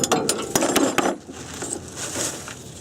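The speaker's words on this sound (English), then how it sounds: "I really just need a 1/4-inch ratchet." Quarter-inch ratchet clicking in quick bursts against a 1999 Toyota Tacoma sway bar, close and fairly loud over about a second, then fading into quieter workshop rustle.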